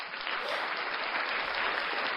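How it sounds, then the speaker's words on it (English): Button-triggered applause sound effect: a short, steady burst of clapping, moderately faint and even throughout, with no talk over it. "you might hear random clapping"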